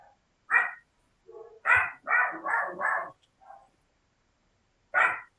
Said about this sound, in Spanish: por el ruido del perro, péguenle para que deje de llorar.